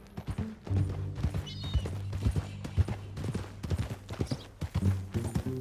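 A horse in Red Dead Redemption 2 clip-clops close by in a brisk, uneven rhythm of hoof strikes, steady throughout, with no talking.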